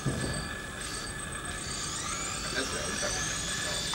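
A toy helicopter flying nearby, its steady high-pitched motor whine shifting in pitch as it moves, continuous and fairly close throughout.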